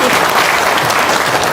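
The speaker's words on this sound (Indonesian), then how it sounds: "Yuk, tepuk tangan dong, Semarang." Dense audience applause at a seminar gathering in Semarang, loud and continuous throughout a short burst with no break.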